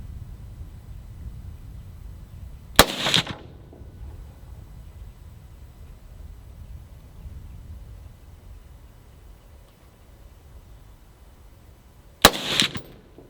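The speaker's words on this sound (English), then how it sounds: "That was 10 shots." Two sharp, loud rifle shots from an 8.6 Blackout firing 160gr TTSX rounds, spaced about nine seconds apart, each followed by a brief echo over a steady low outdoor rumble.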